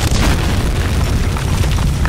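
Explosion in Amnesia: The Dark Descent, a heavy low rumbling boom that fills the whole clip, loud and sustained with no clear onset and no talk.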